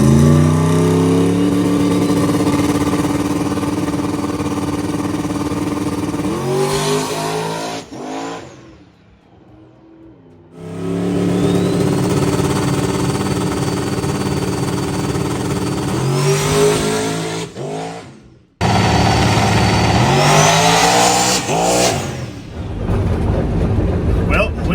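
Drag racing car making a run at South Georgia Motorsports Park: a loud engine roars and revs hard for several seconds, cuts out abruptly, then roars again in two more full-throttle bursts separated by brief quiet gaps.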